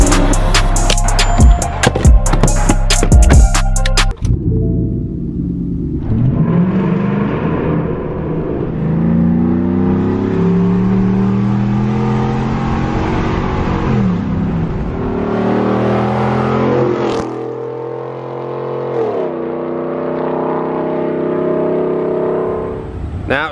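A Ford F150 pickup's engine revs loud and close after a burst of clattering noise, its pitch climbing and falling through several long rising sweeps over about twenty seconds.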